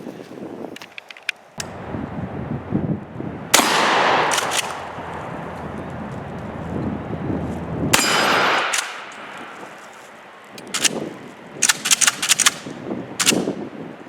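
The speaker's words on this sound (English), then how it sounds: "we'll shoot them" A KelTec KSG pump shotgun fires shells outdoors, with several sharp, loud blasts separated by pauses and metallic clacks of cycling the action, sometimes in quick pairs.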